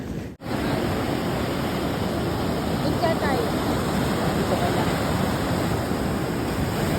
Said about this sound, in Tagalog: Super talaga yung alon